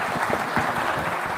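An audience claps at a live on-stage public event in Uttarakhand, a dense, loud burst of applause from a crowd with no voices over it, sustained evenly throughout.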